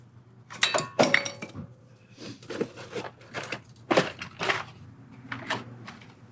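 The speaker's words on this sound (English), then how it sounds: "Pull our brake pad down. Caliper." Metal parts clink and rattle close by as the brake pad and caliper come off a Jeep Wrangler, in a few quick bursts of clatter separated by short pauses.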